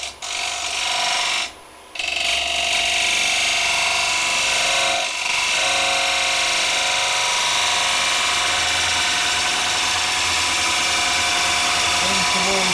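Wood lathe spinning an ogee bowl while a gouge takes a cut on the return, a continuous whirring rumble with a scraping, rubbing cutting texture, briefly dropping out early on, with someone talking over it.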